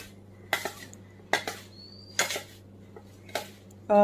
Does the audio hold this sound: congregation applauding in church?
no